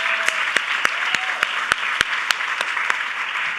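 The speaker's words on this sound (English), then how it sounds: "Round of applause for Brandy," Applause at an awards ceremony honoring trailblazing women in communications, steady crowd clapping with sharp, regularly spaced loud claps standing out near the microphone, continuing throughout.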